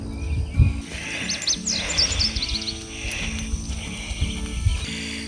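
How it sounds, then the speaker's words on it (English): Several small songbirds chirp and twitter outdoors in Texas piney woods, scattered high calls over a low rumbling background, moderately near. "There's all sorts of little birds here."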